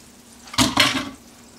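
Beaten egg hits a hot pan for a French omelette, giving two quick, close sizzling splashes that fade into a brief hiss.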